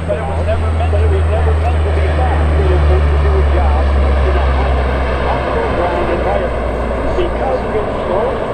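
A C-130 Hercules turboprop at an airshow demonstration, its propeller engines droning in a loud, steady low hum, with an announcer talking over it throughout.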